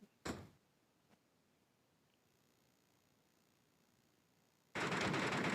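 A sharp burst sounds at the start, and a faint click follows. After a long quiet stretch, a loud sustained blast of noise cuts in abruptly, a grenade explosion in PUBG Mobile Metro Royale.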